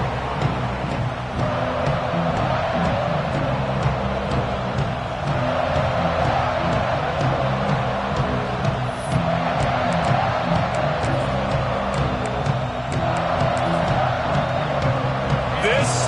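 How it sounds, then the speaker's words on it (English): A stadium crowd at an Auburn football game makes a steady, broad roar that holds for the whole stretch, with a voice talking over it. "This crowd ready to make its presence known."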